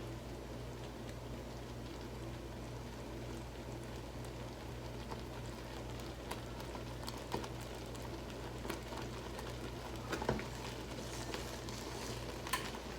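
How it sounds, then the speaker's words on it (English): A pot of homemade blueberry jam bubbles and hisses quietly and continuously, a soft simmering boil with occasional louder pops over a low steady hum. "I can hear it still boiling."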